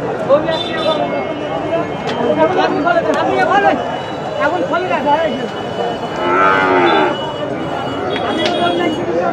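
A Friesian calf and other cattle mooing at a busy Bangladeshi cattle market; repeated drawn-out moos, some near and some farther off, over crowd chatter, with people talking throughout.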